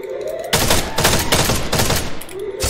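Rapid bursts of automatic gunfire in a PUBG-style battle royale game, loud dense rattling volleys with a brief pause, sounding close.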